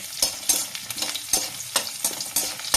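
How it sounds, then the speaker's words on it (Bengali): Chopped garlic sizzles in hot oil for cauliflower paratha, a steady crackle broken by sharp, regular scrapes and taps of stirring, close and fairly quiet, with no voices. "তেলে সবসময় প্রথমে রসুন কুচি দেবেন"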